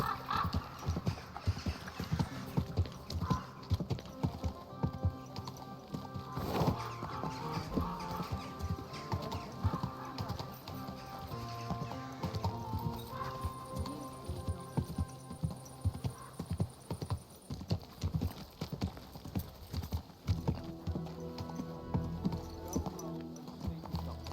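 Steady clip-clop of horse hooves trotting throughout in the video game Kingdom Come: Deliverance II, with an occasional whinny, over faint background ambience and a distant tone.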